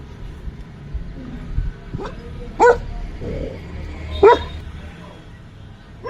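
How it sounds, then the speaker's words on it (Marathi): Two or three short dog barks ring out in a quiet, foggy outdoor morning setting, spaced a couple of seconds apart, with faint background noise between them. "काळ्याची पहा काय चाललंय ना आमचा डॉगी काळू"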